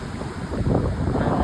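Sea waves roll onto a beach as a steady, broad roar, heavily buffeted by wind rushing across the microphone, with no voices.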